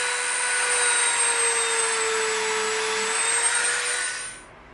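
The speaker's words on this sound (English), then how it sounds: "Now we're gonna come in with our Dremel." A Dremel rotary tool grinds EVA foam with a steady high-pitched whine and a dense, even abrasive hiss, close and loud for about four seconds before spinning down. No one speaks.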